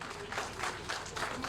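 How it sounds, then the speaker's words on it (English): Applause from an audience honouring the Attorney General at a civic event in Kambia, a steady mass of clapping across the moment with no clear speech on top. "Another clap for him."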